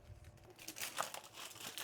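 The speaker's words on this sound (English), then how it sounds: "Well, this is proper blotting paper." Sheets of fine blotting paper for pressing and drying flowers are handled up close, giving soft, quiet crinkling and rustling that swells in the middle and continues in brief bursts.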